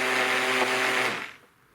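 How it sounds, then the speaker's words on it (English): An immersion blender whirs loudly through gluten-free batter for fried chicken, a steady high motor hum that cuts off and winds down after about a second. "I'm going to be using an immersion blender to mix this up really,"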